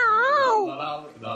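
A voice imitates a cat meowing on a Dutch radio program, one long wavering, rising and falling meow followed by softer vocal sounds, close and clear.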